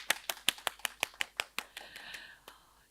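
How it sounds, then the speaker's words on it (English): A short run of sharp claps, like a small group applauding briefly at a school quiz competition, with faint talk-like noise underneath before it trails off. "let's give ourselves a huge round of applause"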